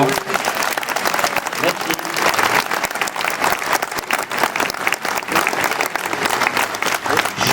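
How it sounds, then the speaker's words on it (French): Loud, sustained audience applause for a choir and wind band at a commemorative ceremony honouring a general, dense steady clapping from a large crowd filling the space, with a brief spoken word over it. "je pense qu'il mérite encore vos applaudissements"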